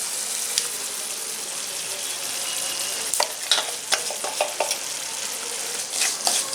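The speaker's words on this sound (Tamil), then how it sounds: "மிதமான தீயில ஒரு நிமிஷம் வறுத்து எடுத்துக்கலாம்" Ground sesame powder dry-roasts in a pan over medium heat for sesame rice, giving a steady soft hiss. Sharper scraping stirs break through in clusters in the second half.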